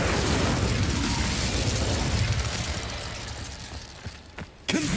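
The Incendio fire spell in Hogwarts Legacy bursts into a loud, dense roaring whoosh of flame that fades gradually, ending with a few small pops and a sharp crack, with no talk.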